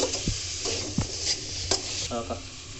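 Chopped tomatoes added to onion and ginger-garlic paste frying in a pan: steady sizzling with several stirring scrapes and soft utensil knocks, close by and without talk.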